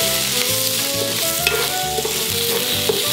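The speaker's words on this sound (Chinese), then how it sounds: "来，稍微把饭炒下，接下来再放入南瓜。" Rice with chicken is stir-fried in a pan on an induction cooktop, giving a loud, constant sizzle with repeated scraping strokes of the spatula over a steady tonal hum, no speech.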